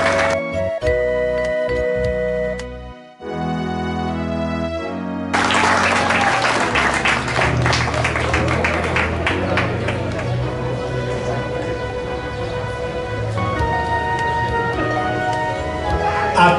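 Applause for an honoree at a sports Hall of Fame induction in Barranquitas, a steady crowd clapping that swells in and carries on under loud ceremonial music for most of the stretch.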